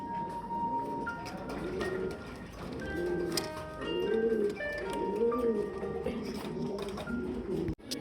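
Fancy breed pigeons coo repeatedly in rising and falling phrases, close and steady, with other birds and a low background murmur mixed in throughout.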